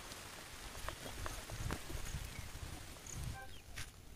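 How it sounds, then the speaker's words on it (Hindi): Steady outdoor rainfall patters onto surfaces in a continuous dense hiss, with scattered sharper drip taps and faint bird chirps swelling and easing over a few seconds. "पूरा बारिश हो रहा है।"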